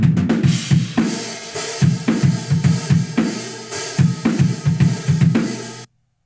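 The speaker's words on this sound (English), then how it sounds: "get some room mics and put them as far away as possible, and your drums will sound so much bigger" Drum kit played in a room and picked up by inexpensive room microphones set far back, giving a big, roomy sound: steady kick and snare hits with cymbal wash, loud and continuous, then cut off abruptly near the end.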